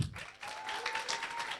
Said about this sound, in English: a massive round of applause for